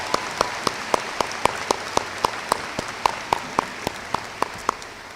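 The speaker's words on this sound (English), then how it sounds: "So give you a round of applause." Applause at a high school graduation ceremony: a large crowd claps steadily beneath a loud, regular beat of close, sharp claps that repeats about every quarter second throughout.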